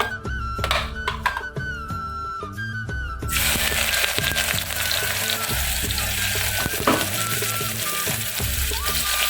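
Tomatoes and onions sautéing in a pan for a chicken gravy, a loud steady sizzle that swells up partway through after quieter stirring and scraping, with no voices.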